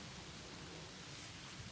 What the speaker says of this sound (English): Well, and it's raining.